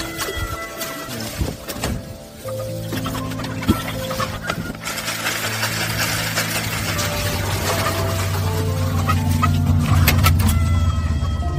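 Indio Gigante chickens cluck and call inside a chicken coop, scattered clucks over a steady low mechanical hum that grows louder, with no talk.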